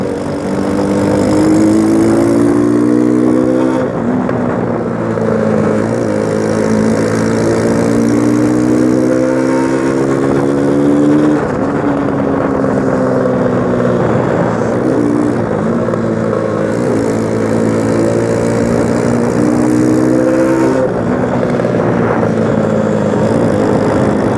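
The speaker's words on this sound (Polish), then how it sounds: "dzisiaj jazda na motocyklu bardzo mi odpowiada" Steady motorcycle engine drone while riding, loud and close, with rising and falling pitch as it shifts through gears and changes speed.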